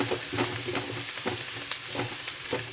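Turmeric and chilli powder sautéing in a pan for Tamil fig poriyal, a steady close sizzle with repeated scraping stir strokes, no voices.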